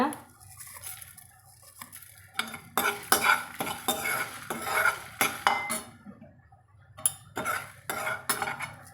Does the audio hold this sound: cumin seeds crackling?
yes